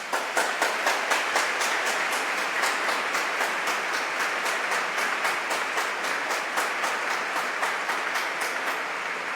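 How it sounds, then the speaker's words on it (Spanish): Warm applause from an audience at a talk fills the room, a dense, steady patter of many hands clapping continuously at a fairly strong level with no voices over it. "aplauso."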